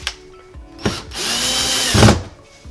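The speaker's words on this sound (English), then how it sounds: "Now drill these screws inward" A power drill drives screws through an electrical outlet box into drywall, giving a few short whirring bursts, then one longer sustained run that bogs and stops, close and loud with no talk.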